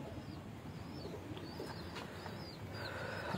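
Pigeons coo softly in a low, repeating murmur on a rooftop loft in Multan, a gentle continuous backdrop with no voices.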